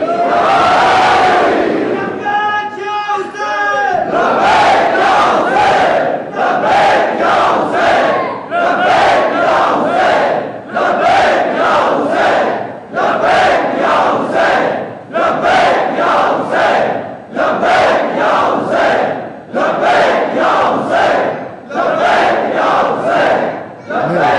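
A large crowd at a religious gathering chants the slogan "labbaik" in loud, rhythmic unison bursts, repeated about a dozen times with short gaps, after an opening swell of voices.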